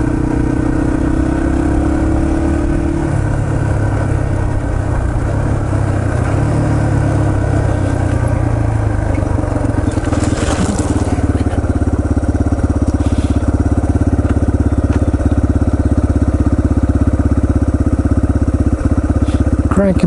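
A Yamaha TT-R230 dirt bike engine runs loudly and continuously at close range on a trail at Windrock Park, its pitch shifting as it revs up and settles.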